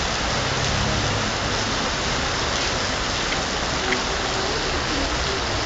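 Floodwater surges down a street in Kislovodsk with enough force to shift curb stones, a steady, loud, unbroken rushing roar with no voices standing out.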